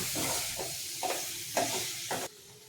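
Sun-dried vathal fries in hot oil while being stirred for a tamarind kuzhambu, a close, steady sizzle broken by a few scraping stir strokes before it cuts off.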